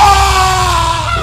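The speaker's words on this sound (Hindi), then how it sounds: "और फिर एक चीख आई।" A shrill, sustained scream in an animated horror story, loud and alone for just over a second, with no talk over it.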